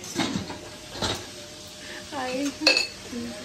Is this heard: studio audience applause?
no